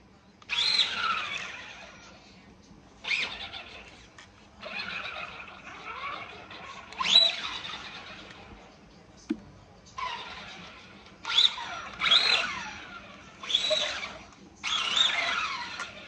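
Arrma Granite RC car fitted with a swapped brushless Traxxas Velineon motor, driven hard with skids and reverse runs, clutch running hot; repeated close bursts of high motor whine and tire skidding separated by short pauses.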